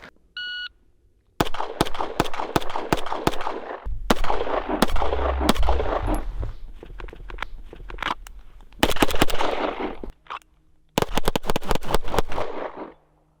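HiPoint and Infinity pistols fire in rapid volleys outdoors, loud sharp cracks in dense bursts with brief pauses between strings, plus a short electronic beep at the start.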